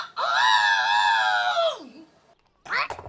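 A voice actress imitates a rooster crowing with one long, loud, strained screaming call that falls away at the end, followed by a brief short vocal burst.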